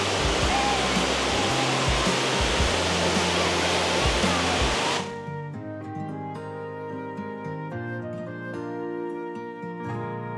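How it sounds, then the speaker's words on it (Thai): Roaring broadband rush of Dai Chong Thong waterfall in Sangkhla Buri, Thailand, loud and steady for about five seconds, then giving way to a quieter, thinner wash of falling water with tonal hum. "วันนี้ผมก็พาท่านผู้ชมมาที่น้ำตกใดช่องของซึ่งแปลว่าปีกนกทองนะครับ"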